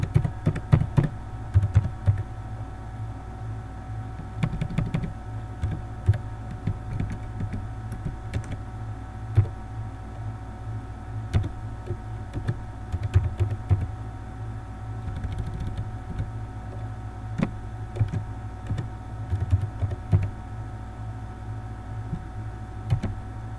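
Steady typing on a computer keyboard, a close run of light, irregular key clicks with short pauses over a low background hum.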